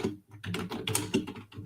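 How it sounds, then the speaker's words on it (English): Rapid keystrokes clatter on a computer keyboard in a quick irregular burst, close and clear, with no one speaking. "I had to type out a message real quick"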